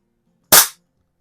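A single sharp shot from a Beeman P3 air pistol fired at a paper target, one loud crisp crack with a short decaying tail, nearby and alone.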